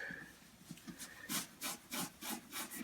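Cleaner is rubbed into the finish of a 1958 Gibson ES225 guitar by hand, a series of soft, rhythmic back-and-forth swishing strokes that grow steadier and louder toward the end.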